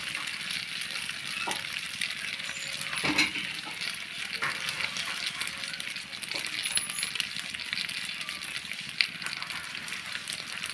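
Pasta tossed with Maggi masala in a frying pan sizzles steadily, with a few sharp clinks and scrapes from stirring, moderately close and without talk.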